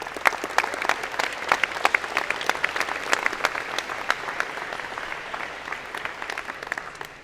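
Audience applause at a college engineering and computer science convocation, steady sustained clapping from a large seated crowd with sharp individual claps standing out, continuing evenly for several seconds.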